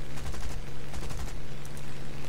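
Machine guns of a Spitfire Mk IIb fighter firing in War Thunder, heard as dense rapid bursts of gunfire over a steady engine hum for about two seconds, with no talking.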